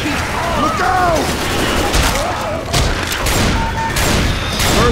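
Dense, rapid gunfire fills a Left 4 Dead 2 match, with repeated loud shots and clattering bursts over a busy game soundscape, while players shout and talk throughout.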